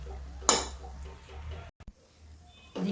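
Grated sweet potato halwa being roasted and stirred in a metal pan, with a spoon scraping and clinking close by, one sharp clank near the start, a brief lull, then renewed scraping at the end.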